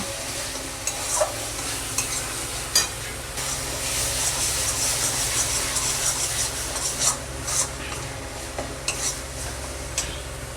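Tomato masala with cumin and coriander powder fries loudly in a pan, giving a dense sizzle broken by repeated scraping strokes of a spatula, close and without voices.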